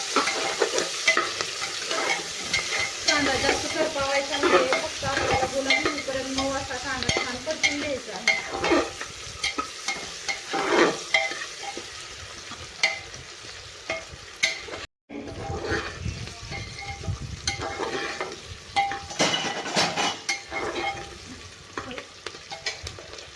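Chopped onion and green chili sauté in a pan, a constant close sizzle broken by frequent scraping and clinking stirs, with a brief silent gap midway and no talking.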